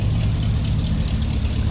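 The 348 V8 in a 1961 Chevrolet Bel Air two-door idles close by with a steady, low, loping burble and no voices over it.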